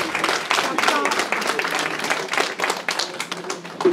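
Audience clapping at a political investiture meeting in Nanterre greets an introduced delegate, uneven bursts of applause with some voices mixed in underneath.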